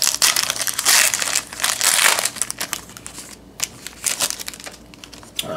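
Foil football trading card packs are torn open and crinkled by hand, making loud, close bursts of crumpling and crackling foil in quick irregular handfuls.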